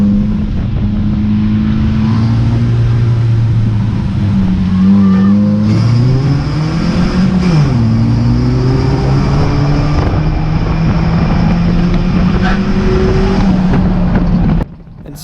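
Stock cars at Cowdenbeath Racewall roar continuously through a rolling restart, with the engine drone loud and close. The pitch rises and dips as they accelerate and ease off, until the sound cuts abruptly near the end.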